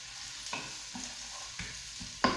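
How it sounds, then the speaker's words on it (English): Onions fry in a pan for a basic tomato sauce, giving a steady close sizzle with a few soft stirring scrapes and clicks, and a sharper knock near the end. "I'm just going to add some onions. I've got it already sort of frying away."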